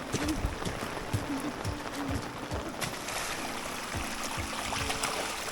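Heavy rain floodwater rushing past the outside of a house like a river, a steady broadband wash of flowing water with faint splashing, continuous and fairly close throughout.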